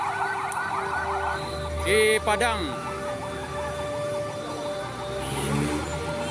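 An ambulance siren wails with rising and falling tones amid street noise at a hospital in Padang during an explosion evacuation, while people talk nearby; a sharp horn-like blast cuts in briefly.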